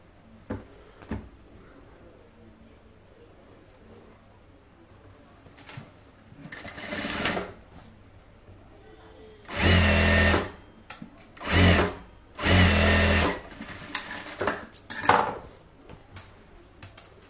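A sewing machine stitching a strip of blouse fabric runs in several short bursts, each lasting about a second, separated by quiet pauses with faint handling noises between them.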